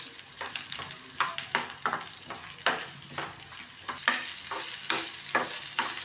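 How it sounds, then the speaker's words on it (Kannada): Onion and garlic frying in hot oil for curd sambar, a soft continuous sizzle broken by repeated scraping stirs of a spoon in the pan, close and moderately quiet. "ಈರುಳ್ಳಿ, ಬೆಳ್ಳುಳ್ಳಿ ಹಾಕ್ಬಿಟ್ಟು ಸ್ವಲ್ಪ ಹೀಗೆ ಫ್ರೈ ಮಾಡ್ತೀನಿ"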